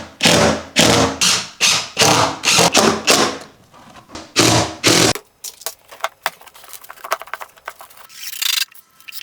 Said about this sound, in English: now it's time to screw it on with this bacaron. This is for use for cement boards